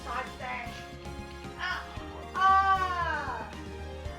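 A cartoonish cat meows once, rising and then sliding down in pitch, in the Phoenix Wright: Ace Attorney video game, over soft game music with people talking around it.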